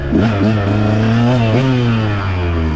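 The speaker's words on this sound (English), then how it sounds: "let's try this green map out" A 2023 KTM Husqvarna 125 two-stroke motorcycle running a green ECU map, its engine revving up and down in rising and falling pitch sweeps, loud and close, with a mechanical clatter underneath.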